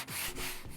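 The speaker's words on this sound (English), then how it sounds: "we're starting off sanding here with 60 grit sandpaper, and we've got it wrapped around a rubber block" Rough, steady scraping of 60-grit sandpaper wrapped around a rubber block, rubbed back and forth over wood, close up, with a brief pause between strokes and no voices.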